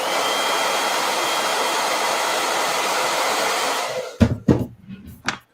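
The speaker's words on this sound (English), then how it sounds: "Hit this with a blow dryer." A blow dryer runs steadily close by to dry face makeup, its constant whooshing roar cut off abruptly, followed by a few short bumps and handling noises.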